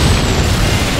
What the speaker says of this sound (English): Watch out! Don't get caught in the explosion!